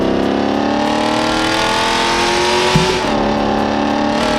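A Corvette C6 engine in BeamNG Drive revs loudly and continuously, its pitch holding high, dipping briefly near the three-second mark, then climbing again; no talking.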